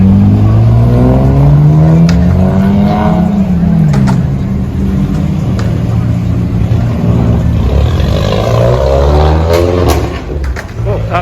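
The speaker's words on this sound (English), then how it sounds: "Go catch some people revving up right over here." Several cars rev their engines at a street car meet in Monrovia, California, with loud, close throttle blips and rising and falling engine notes over a steady crowd hum, and people talk throughout.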